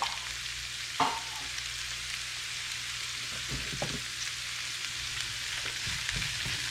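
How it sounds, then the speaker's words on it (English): Minced garlic and onions sizzle and fry in a pan with a soft, continuous hiss, broken by a few light knocks and scrapes of stirring, fairly quiet and steady. "And then our minced garlic, adding that into the pan as well. And we're just going to saute these together."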